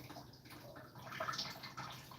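Hot cooked noodles drain, with water splashing and trickling steadily up close and a brief louder gush partway through.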